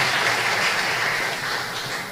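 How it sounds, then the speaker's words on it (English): Audience applause at a Belizean tribute and awards ceremony honouring patriots, a continuous wash of clapping that holds steady and eases off slightly toward the end, with no speech. "Another round of applause for Dr."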